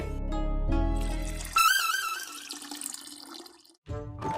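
A stream of water splashes noisily for a few seconds, close and fairly loud, after a stretch of low rumbling sound, then cuts off briefly before another burst of noise.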